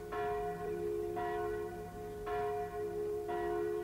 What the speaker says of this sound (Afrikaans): Luister, ons kan die klokke hoor.